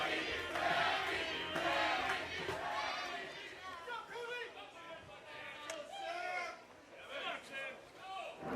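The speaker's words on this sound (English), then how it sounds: "Fans are cheering his name here tonight." Crowd at a professional bowling stepladder final chanting and cheering a player's name, a layered mass of voices swelling and falling, with a commentator's voice over it.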